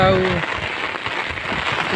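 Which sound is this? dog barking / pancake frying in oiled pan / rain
rain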